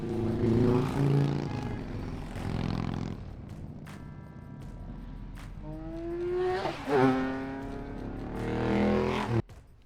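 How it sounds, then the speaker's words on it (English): Traffic passes right beside a highway, with several vehicles sweeping by close and loud, each whoosh rising and then fading in pitch, with a constant road hum between passes. "Literally right beside the highway."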